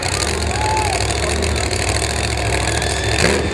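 A monster truck engine roars loud and steady as the truck goes up on a wheelie at a Miami, Oklahoma arena show, a continuous dense rumble with crowd or arena noise mixed in.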